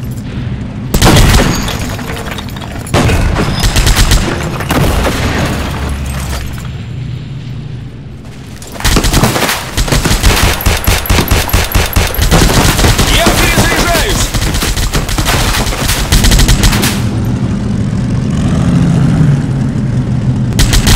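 Heavy gunfire and booming grenade blasts from the World War Heroes shooter game, with dense bursts of automatic fire, repeated loud explosions and shouted voices mixed in throughout.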